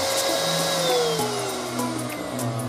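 A Paint Zoom paint sprayer's small internal blower runs steadily at close range, a continuous vacuum-like whir with a faint high whine that shifts pitch slightly, alone without talk.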